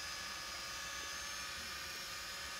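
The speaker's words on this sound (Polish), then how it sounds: "Dron w tym momencie gubi Mateusza." A camera drone flies overhead with a steady, high-pitched whining buzz of propellers, constant and even throughout, no voices.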